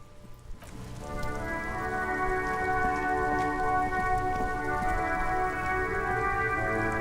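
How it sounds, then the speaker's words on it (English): Steady rain falls in the game Disco Elysium, a dense even patter that rises after a quiet start and holds constant, with a low tonal drone running beneath it. "It's raining again."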